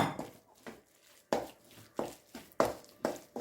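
A spoon stirs coconut milk powder into a beetroot masala curry in a pan, making sharp, evenly spaced clacks and scrapes against the pan, close and alone.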